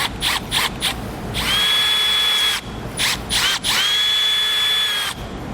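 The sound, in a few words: power drill drilling a hole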